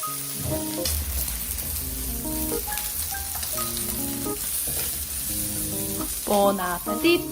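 Korean pork belly (samgyeopsal) frying in a pan, giving a steady close sizzle throughout with a louder spitting burst near the end, no talking.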